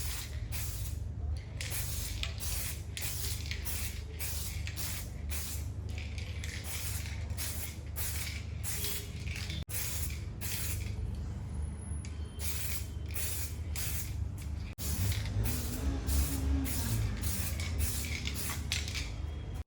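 Samurai 2K clear coat hisses from a spray can onto a car headlight in short, regular bursts, a rhythmic series of close, loud sprays with brief pauses between.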